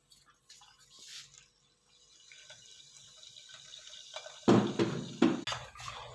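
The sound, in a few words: pouring liquid into 7up to mix a drink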